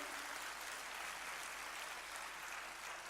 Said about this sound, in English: May I have a big round of applause for each one of them.